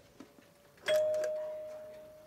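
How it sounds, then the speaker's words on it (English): A vintage Clinden electric doorbell with bell push and transformer gives one clear ding that rings out and slowly fades, loud and close after a few faint knocks. "Clinden doorbell. In good working order with bell push and transformer."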